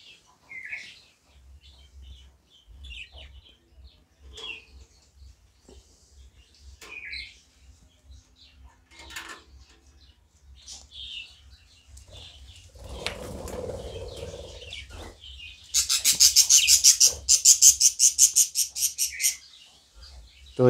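Budgerigars in a nest box, with soft intermittent chirps and rustling followed by a louder burst of rapid fluttering wing beats near the end, over a low steady hum.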